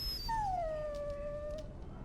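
A dog in the Dragon Age: Origins video game lets out a single drawn-out whimpering howl, a thin wavering whine that slides downward and fades over about two seconds, heard alone over quiet background hum.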